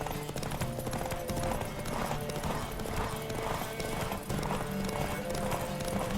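Steady, rhythmic hoofbeats of a galloping horse in The Witcher 3: Wild Hunt run throughout, loud and continuous under dense game audio.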